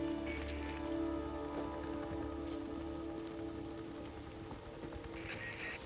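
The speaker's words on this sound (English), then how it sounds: "Seems like it's always raining out here." Steady rain in the video game Days Gone patters on a surface under a low hum, a constant soft wash of drops with no distinct voices.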